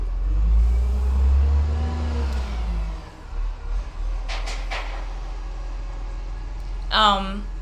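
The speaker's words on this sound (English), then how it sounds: "The truck." A truck rumbles past nearby with a loud low engine drone that builds, then fades. Brief speech follows, and a short voice sound comes near the end.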